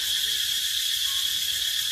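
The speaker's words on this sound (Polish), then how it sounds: "Cykady i inne jakieś gady, zwierzęta." Cicadas and other insects buzz from bushes in a jungle-like setting, forming a dense, steady, unbroken high chorus with no voices.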